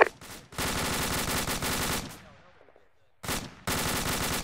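Rapid automatic gunfire from fire teams engaging enemy infantry in a military video game, loud sustained bursts broken by a short decaying lull, then resuming.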